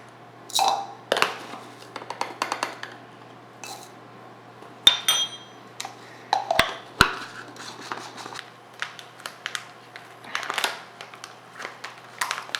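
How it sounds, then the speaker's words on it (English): Chili flakes being chopped up on a board for a homemade Montreal steak spice, giving irregular sharp clicks and knocks with short busy bursts and pauses, close and fairly quiet. "The next one's chili flakes, so I need to chop them up again."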